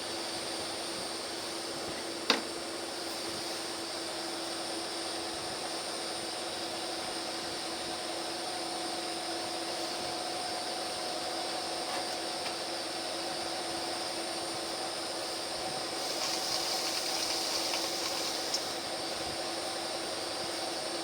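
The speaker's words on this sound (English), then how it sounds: "Use compressed air to kind of blow some of the dust away." Compressed air hisses steadily and loudly against a wooden bowl turned from a log, blowing dust away in one long continuous blast with a brief tap near the start and a slight surge late on; no one speaks.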